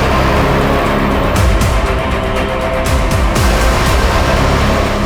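A car is halted on a road and then backed up; its engine drones loud and close throughout, with rising and falling whine as it slows and shifts direction, and no one speaks.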